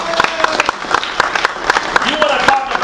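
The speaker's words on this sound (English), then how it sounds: "Can you give her a hand clap tonight?" Audience at a political event for a Democratic congressional candidate in Alabama applauds, the claps dense and steady throughout with a few sharper individual hits standing out.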